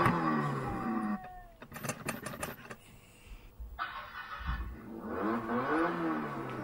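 Electronic sound effects from a children's toy ride-on jeep: a synthesized engine start and revving with whirring, beeping bursts, fairly loud and near, with a voice and chatter around it.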